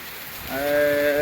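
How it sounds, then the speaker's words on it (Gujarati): Heavy rain pours outdoors in the Gir countryside as a dense, steady hiss throughout, with a voice speaking over it in the second half. "આવો બધો વરસાદ પડે છે"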